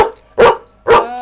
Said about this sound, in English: Danny, can you shut your dog up?